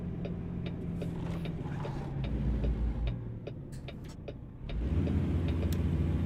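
Cars pass along a road in traffic within a video game, a steady engine rumble swelling and easing with faint ticking mechanical sounds and no talk.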